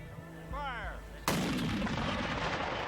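Historic cannon firing solid shot, one sudden very loud blast with a long rumbling tail, preceded by a short rising whistle-like tone and faint background noise.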